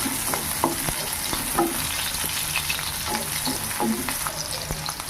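Kalyana murungai leaves sauté in a hot pan with a continuous close sizzle, punctuated by frequent light scrapes and taps of a stirring spoon.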